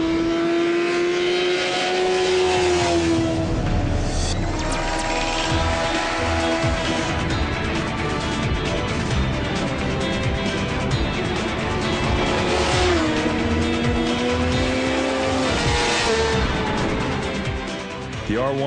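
A Yamaha R1 motorcycle at speed on the Fukuroi test racetrack, its engine loud and continuous, rising and falling in pitch through gear changes as it runs near.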